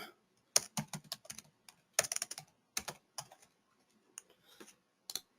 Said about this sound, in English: Okay, he will be typing.